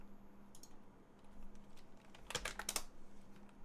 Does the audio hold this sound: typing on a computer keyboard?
yes